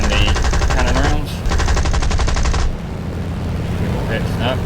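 Rapid bursts of .303 machine-gun fire from a Spitfire Mk II in War Thunder, two long rattling strings separated by a short pause, loud over steady engine drone.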